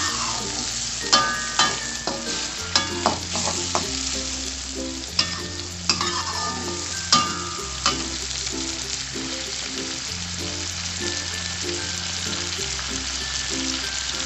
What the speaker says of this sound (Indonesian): Kita tunggu sampai mendidih ya.